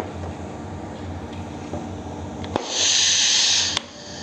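Compressed air hisses through a 3/2 rotary lever valve: after a low background hum and a sharp click, a bright steady hiss bursts out for about a second, then cuts off with another click.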